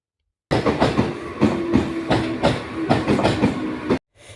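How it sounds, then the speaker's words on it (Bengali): A train passes nearby, its wheels beating out a rhythmic clickety-clack over the rails in loud, steady pulses before cutting off abruptly. "এই যে ওদিক দিয়ে একটা ট্রেন যাচ্ছে"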